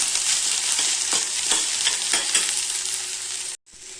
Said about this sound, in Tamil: வெண்டைக்காய் போட்டு நல்லா வதக்கிக்கலாங்க